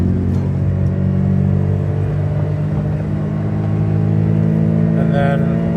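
A 1999 Honda Vamos kei van's engine drones steadily at raised revs in third gear on the highway, a continuous low rumble with road noise filling the whole stretch.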